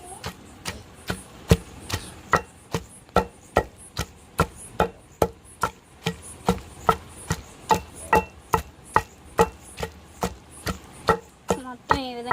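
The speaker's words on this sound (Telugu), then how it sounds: "మొత్తం వేసేసుకొని త్వరగా నూరేసుకున్నాం." Ivy gourd chutney is ground by hand in a stone mortar, giving a steady series of loud, evenly spaced pounding thuds about twice a second that continue throughout.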